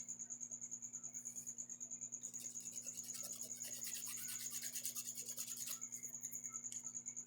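A nail file rasping along a fingernail close to the cuticle, with soft, quiet rubbing strokes that repeat in a steady back-and-forth rhythm under a constant high-pitched electrical whine and a low hum.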